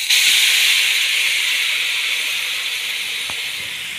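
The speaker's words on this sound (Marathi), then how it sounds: "तर हे जे उकळलेलं पाणी आहे तर हे आपल्याला हा रवा पूर्ण बुडेपर्यंत आपल्याला हे गरम पाणी यामध्ये ॲड करायचं आहे." Boiling water poured onto roasted semolina for sweet sheera sets off a loud, steady steam hiss that starts strong and slowly eases over a few seconds, close by and with no talking.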